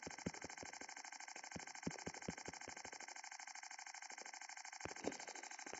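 Motorbike engine in Roblox Brookhaven, a steady buzzing drone with a bright, layered whine held throughout, plus a quick series of low thumps early on and a couple more near the end, no speech.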